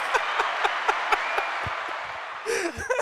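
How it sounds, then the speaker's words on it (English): Canned studio crowd applause rolls steadily under a rhythmic thumping beat, then cuts to someone talking loudly near the end. "Where's that crowd noise?"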